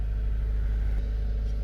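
A 12-valve Cummins diesel engine in an F-450 truck build, low-mileage, idles steadily with a constant deep rumble and a close, even drone and no change in pace.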